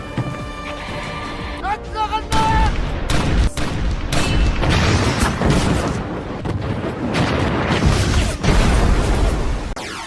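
Heavy artillery fire and explosions in a war scene, a dense, loud and continuous barrage of booms and blasts rolling on without pause, with a brief whistling sweep early on.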